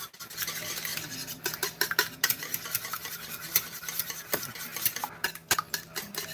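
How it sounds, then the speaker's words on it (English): Eggs being scrambled one at a time in a bowl for an egg wash, with a steady stream of quick, light clinks and scrapes of a utensil against the bowl, close up and with no talking. "we're going to scramble up each one of these eggs here"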